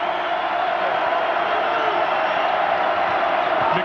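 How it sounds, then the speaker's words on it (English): A packed arena crowd at a 2004 Purdue home basketball game against Northwestern roars in a dense, steady wall of cheering that holds at full volume throughout. "Crowd comes to life"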